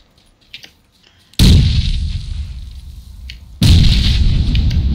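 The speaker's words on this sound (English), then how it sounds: "Is he throwing those grenades or you?" Grenade explosions in the game PUBG, two loud booming blasts a couple of seconds apart, each followed by a rumbling decay, after a quiet start.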